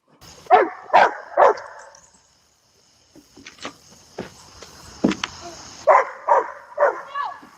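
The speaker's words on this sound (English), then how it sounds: "CCTV captures a dog facing something terrifying in the woods" A dog barks sharply in spaced bursts and whimpers at night in the woods, recorded by an outdoor security camera, with a quiet gap midway before the barking resumes in a closer cluster.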